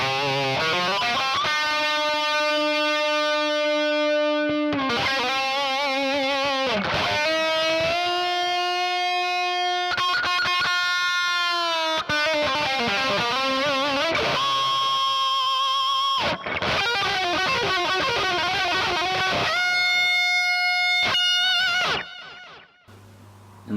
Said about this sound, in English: So, this is the tone with the delay.